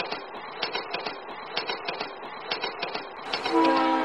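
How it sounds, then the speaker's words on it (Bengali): A cartoon train rolls along the rails with a regular, rhythmic clickety-clack of wheels over joints, then a loud horn blast cuts in near the end. "ট্রেন তার আপন মনে ছুটে চলেছে।"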